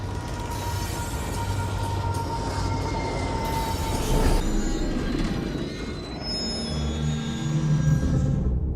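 A train rolling along a railway, with a loud sustained rumble, rattling carriages and high squealing wheels that rise and fade over several seconds, close by and without voices.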